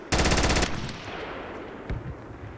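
A short, loud, rapid automatic burst of gunfire from a video game, fired at smoke, lasting about half a second and followed by quieter distant shots and ambient battle noise.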